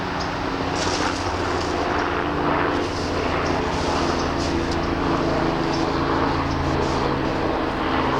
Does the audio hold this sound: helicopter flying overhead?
yes